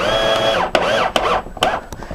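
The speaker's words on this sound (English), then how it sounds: "So I'm going to secure the last screw, and you're going to want to countersink it." Power drill driving a screw into drywall during a hole repair, a loud whining motor run broken by several short bursts and pauses as the screw is set and countersunk.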